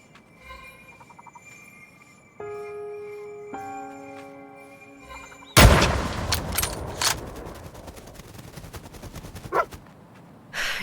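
A single sharp, loud rifle shot fired while hunting in The Red Lantern breaks in midway after quiet tonal music. Scattered sharp bangs and barking-like sounds from sled dogs follow.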